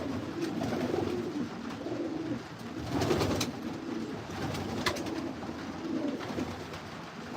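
Racing pigeons coo steadily in a breeder loft on a rainy day, several birds murmuring in overlapping low, rolling calls close by, with a few louder bursts around the middle.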